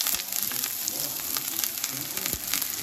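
Yellow onion sizzles steadily in a hot pan for chicken curry, a close, continuous frying hiss with occasional clicks and scrapes, no one talking.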